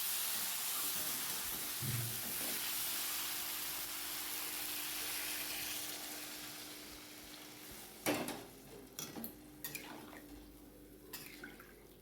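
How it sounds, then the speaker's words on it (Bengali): Water is poured into a sizzling, well-fried spice paste for a light Bengali fish curry of bhetki with vegetable stalks and potato, giving a steady hiss that fades. Then come a few clinks and stirring knocks. "এবার এর মধ্যে জল দিয়ে দেবো।"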